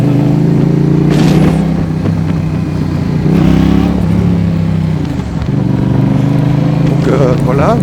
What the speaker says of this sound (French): Des accélérations un peu plus franches, des freinages plus francs.